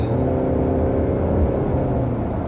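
Mercedes GLC Coupé AMG Line (2020 facelift) with a 9-speed transmission accelerating hard on kick-down, a steady, loud engine drone heard from inside the cabin without a break.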